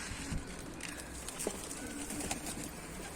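A racing pigeon that had escaped returns in flight, heard as soft cooing and faint wing flutters outdoors, low and distant with no one talking.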